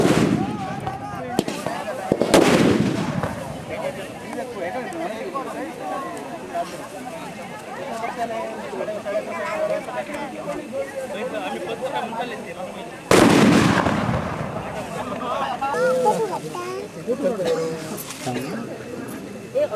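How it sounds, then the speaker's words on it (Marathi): Two loud, sharp crackling bursts of firecrackers at a Ganesh festival, one early and one midway, ring out over a busy crowd of voices chattering throughout. "फटाके वाजवून काय अजून वाजवून वाजा एकदमच घाला"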